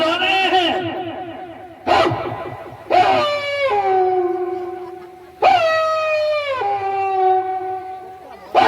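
A voice imitates dogs howling, drawing out several long wavering wails broken by short pauses, loud and close.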